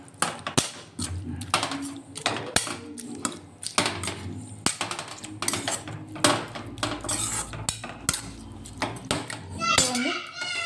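Tempered brinjal curry is stirred in a metal pan, with repeated scraping and clinking of a spoon against the pan at an irregular rhythm, close and fairly loud, while a voice is heard at times.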